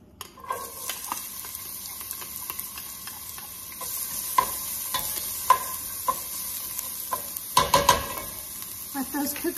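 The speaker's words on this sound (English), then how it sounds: "And this is to saute the onions." Onions sauté in a little oil in a pan, a soft continuous sizzle broken by scattered clicks and scrapes of a utensil stirring, with a louder burst of clattering near the end.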